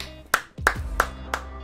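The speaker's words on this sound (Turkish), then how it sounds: "Alkış." A short run of four crisp, evenly spaced hand claps in the football video game FIFA 23, sounding close and dry with no talk over them.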